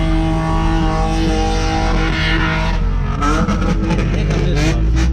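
Dodge Scat Pack engine revving hard while spinning its tires, loud and close, the roar climbing in pitch with tire squeal joining near the end and faint voices in the background.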